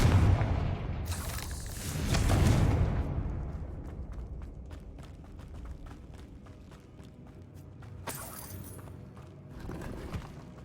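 Spell explosions from Bombarda and Confringo in Hogwarts Legacy: two heavy booming blasts, the first a long rumbling roar and the second a sharper burst several seconds later, with debris and a rumble fading between them.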